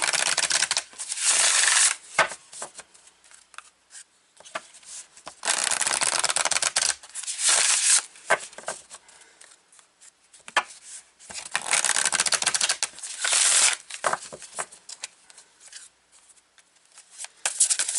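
A new Moonology Messages Oracle card deck being shuffled by hand: loud, close bursts of papery riffling and slapping that come in several long runs separated by quieter gaps, with no talking.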